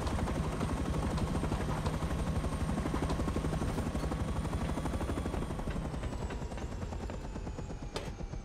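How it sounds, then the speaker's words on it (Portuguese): A map helicopter in the video game Rust, its rotor thumping in a loud, steady rhythm that slowly eases off toward the end, with occasional sharp bursts cutting through. "O helicóptero do mapa."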